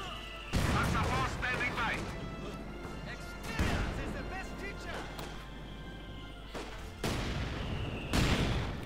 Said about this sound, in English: So my mortar battery continues to make life miserable here for the Germans.